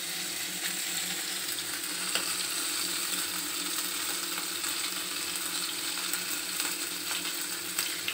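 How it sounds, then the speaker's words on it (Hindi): Flour-coated liver seekh kebabs fry in oil with a steady, loud, close sizzle that runs unbroken from start to finish, with no voices. "थोड़ा इसको फिरा फिरा के तल लेना"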